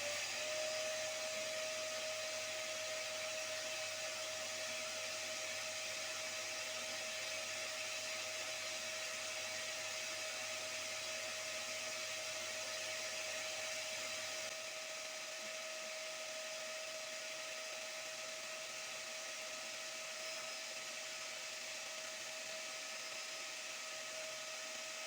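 A workshop cyclone dust collector runs with a continuous broadband whoosh and a thin high whine, steady for the whole stretch, with a slight drop in the low rumble midway and no talk.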